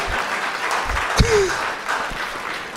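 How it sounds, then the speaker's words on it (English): A comedy club crowd at a stand-up show claps and murmurs briefly, a moderate patter of hands mixed with scattered voices and a short vocal exclamation partway through. "Yeah, we can clap on that."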